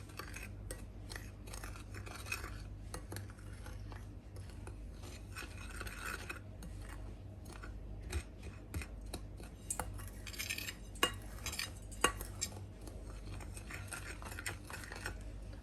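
A spoon mixes ingredients with icing sugar in a bowl for cinnamon roll dough, giving faint, steady scraping with scattered light clinks against the bowl throughout, with no talking.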